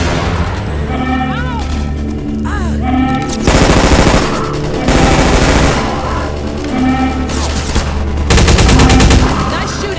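Rapid bursts of gunfire from Half-Life 2: Episode Two fill the scene, loud and close, rattling in dense volleys with heavy impacts between them, while a voice speaks at times beneath the shooting.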